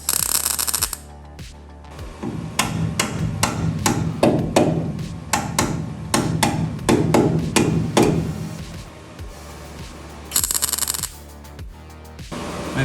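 A hammer pounds on the wheel house of a Toyota MR2 SW20, a rapid series of sharp metallic blows, close and loud, with pauses and scraping noises between bursts.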